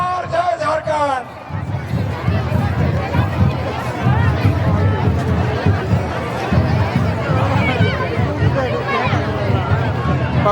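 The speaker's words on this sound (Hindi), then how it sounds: "पब्लिक का भीड़ देखिए दोस्तों," Large outdoor crowd at a political rally for Jharkhand Chief Minister Hemant Soren in Murhu, a dense continuous roar of many voices and shouting, loud and close throughout.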